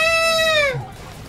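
A cat letting out a loud, harsh screaming meow at close range, a single drawn-out wail that bends downward and cuts off abruptly.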